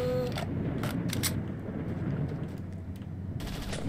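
Gunfire in S.T.A.L.K.E.R. Shadow of Chernobyl, a few sharp cracking shots in quick bursts over a steady rumbling background, moderately close and with no talk.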